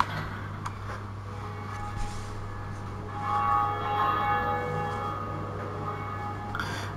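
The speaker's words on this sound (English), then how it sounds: "So we'll go ahead and ring the bell." A church-style bell tolls in the Dark Souls game, set at the Undead Parish, ringing out over steady ambient game noise with a low constant hum, swelling in the middle and sustaining to the end.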